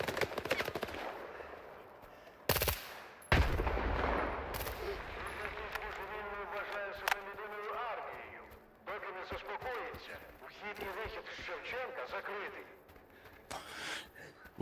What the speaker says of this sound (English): I'm gonna need these guys to stop shooting